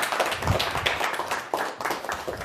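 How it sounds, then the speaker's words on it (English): An audience at a live show claps for a volunteer called up on stage, a steady patter of hand claps that continues unbroken for a couple of seconds. "Give him a round of applause"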